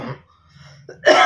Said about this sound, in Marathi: मला खोकला लागला.